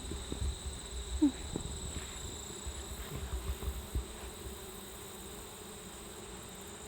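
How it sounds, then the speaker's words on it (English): Many bees buzz steadily around a homestead hive, a continuous low drone that fills the background at moderate loudness, with a few faint knocks and no talking. "If I'll just stop talking here, you can hear all the bees."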